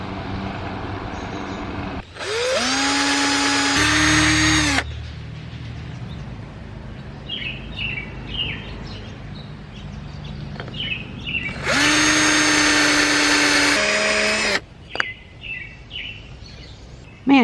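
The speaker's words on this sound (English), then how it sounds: "drilling through this one is like all sorts of messy" A power drill bores into the wood of a 1960s Western-style hibachi shichirin grill in two long, loud whining runs, its pitch shifting under load, with birds chirping in the pauses between.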